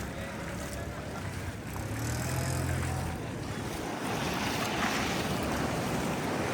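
Rough monsoon surf at Alibag surges and crashes in a continuous churning roar, with wind buffeting the microphone and a faint voice underneath.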